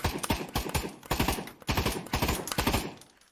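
A Forcetube Scout VR recoil device kicks on burst fire, giving off rapid mechanical clacks in tight groups of several hits, repeating about five times in a close, rhythmic pattern.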